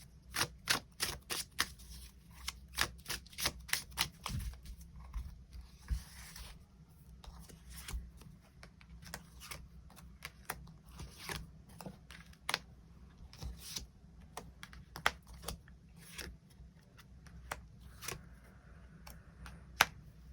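Tarot cards are shuffled and drawn in a quiet close-up. Crisp card snaps come in quick bursts, then thin out to scattered single taps and flicks over a soft background.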